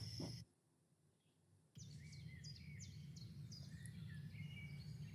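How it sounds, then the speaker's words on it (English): Birds chirp in the morning in a run of repeated sharp, high calls over a steady outdoor background hum, fairly faint and slightly distant, after a short quiet gap near the start. "The birds are chirping, it must be morning."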